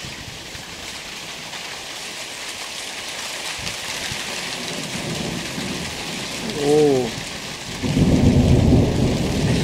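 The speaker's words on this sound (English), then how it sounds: "thunder's still roaring" Thunderstorm with steady heavy rain throughout and deep rumbling thunder swelling near the end, fairly loud and close; a brief exclamation is heard partway through.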